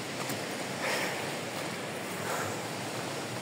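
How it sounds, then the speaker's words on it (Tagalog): A steady, loud rush of wind on the summit of Mt. Mingan buffets the microphone continuously, with gusts swelling slightly around the first and third seconds. "Malakas na yung hangin."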